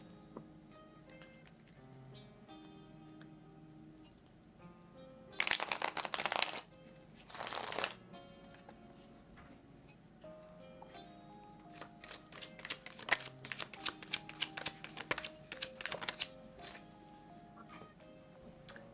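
Tarot cards are shuffled in quiet surroundings, with two loud bursts of riffling early on, then a longer run of quick snaps and flicks, all close to the mic.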